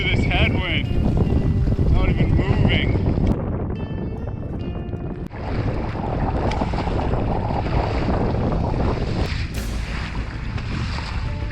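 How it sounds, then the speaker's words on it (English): Strong headwind roaring and buffeting the microphone while paddling a canoe on open sub-arctic water, loud continuous wind rumble with water splashing and brief voices in between. "It's a little much to be paddling into this headwind."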